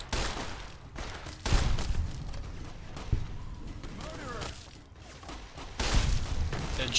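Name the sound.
10mm pistol gunfire in the video game Fallout: New Vegas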